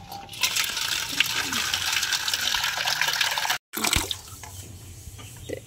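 Water running and splashing as fennel seeds are rinsed in a kitchen strainer, a steady hissing gush with small rattling patters throughout, briefly cut off once before resuming.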